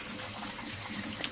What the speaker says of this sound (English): strain your almonds and rinse them off